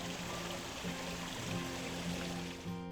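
Steady rushing and splashing of a garden waterfall spilling into a koi pond, a continuous close wash of falling water with no voices.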